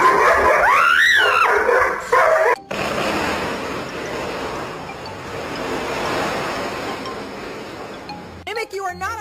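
A pet dog named Mimic yips and whines in a high, wavering howl-like cry, then falls silent while a steady rushing noise fills the middle, and the whining returns briefly at the end; a person speaks partway through.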